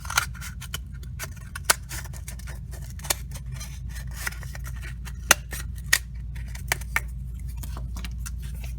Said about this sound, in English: grab your scissors and you can cut halfway down, and then you can go ahead and start cutting around.